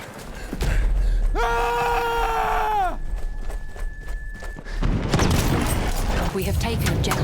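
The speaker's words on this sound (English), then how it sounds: "The first gun I'm going to show you guys is the Model 10A shotgun." A Model 10A shotgun fires in Battlefield 1 amid loud battle noise, with a whinnying horse, heavy booms and scattered gunfire close by, and voices shouting over the din.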